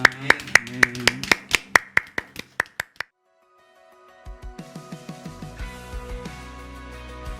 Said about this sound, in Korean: 우리 예배를 받아주신 하나님께 영광의 박수 올려드리겠습니다.